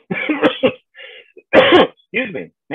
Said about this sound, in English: They just don't mean to be coughing so much.